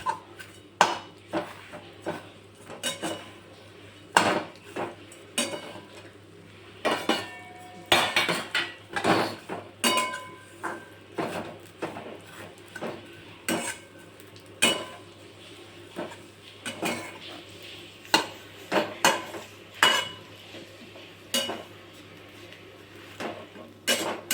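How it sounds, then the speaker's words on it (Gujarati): Vermicelli being roasted in ghee over medium heat, stirred with a metal spoon that clinks and clatters against the pan in irregular bursts for a long stretch, with no voices. "હવે મીડિયમ ગેસમાં આપણે સેવને ઘીમાં શેકી લેશું"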